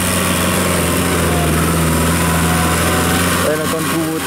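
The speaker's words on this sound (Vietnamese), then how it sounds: "Đây là con Kubota" A Kubota L5018 tractor fitted with a rotary tiller, its engine running with a steady droning hum and vibration throughout, close and loud, with someone speaking over it near the end.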